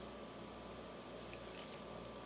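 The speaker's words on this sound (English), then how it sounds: "So we'll just be adding water, and we want everything to get soft" Water added to tamale dough, a soft steady wet pouring hiss with faint splashy drips, continuous and close throughout.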